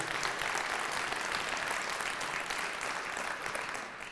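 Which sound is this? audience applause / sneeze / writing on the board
audience applause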